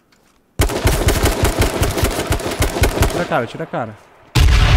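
Rapid gunfire bursts followed by a grenade explosion in the H1Z1 video game, loud and close, with a player talking over the shots.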